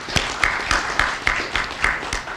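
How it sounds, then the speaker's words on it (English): Sparse, rhythmic audience clapping at a Maryland Mortgage Program launch event, roughly every quarter second across a short stretch, moderately loud and close with no talk over it. "So in his absence, we can give him another round of applause and appreciate it."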